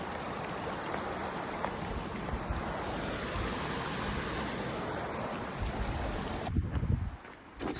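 A small waterfall in Desolation Wilderness rushes in a steady, close broadband wash, interrupted near the end by brief handling bumps; no one speaks.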